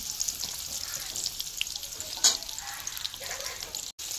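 Paneer pieces fry gently in oil in a pan for a matar paneer, a quiet even sizzle with a brief clink near the middle, close and faint, without speech.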